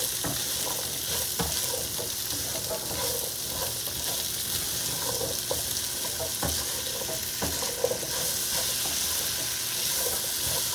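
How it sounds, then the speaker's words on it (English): Potatoes stirred in a sizzling pan, a steady frying hiss with scattered scraping clicks from the stirring utensil, close and continuous with no talking. "Now I'm going to add the potatoes. Stir to get all of them coated well."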